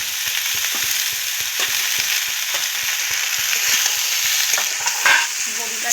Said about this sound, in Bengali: একটু বেশি বেশি করে সবজিটা রান্না করছি।